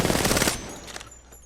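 Automatic gunfire with recoil in Apex Legends, a loud rapid burst of shots lasting about half a second, then a quieter tail of scattered shots and echoes.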